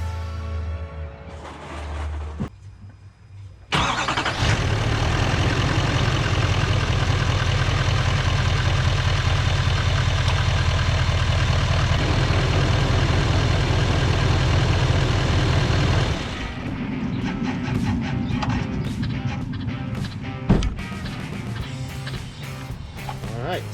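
A 2017 Duramax diesel pickup engine cranks and fires, then settles into a loud, steady diesel idle for about twelve seconds before the sound drops back to quieter shop noise.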